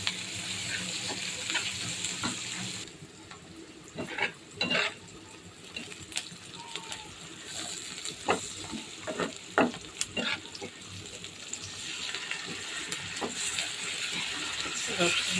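Onion and chili frying in a pan for fish, a steady sizzle with scattered clinks and scrapes of stirring throughout, close and fairly loud, with faint talk in places.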